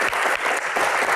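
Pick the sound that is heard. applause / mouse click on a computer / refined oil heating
applause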